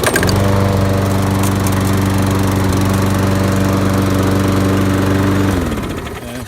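A Briggs engine lawn mower with a side discharge attachment, left sitting for a while, runs close and loud with a steady droning hum for about five seconds, then shuts down and winds off.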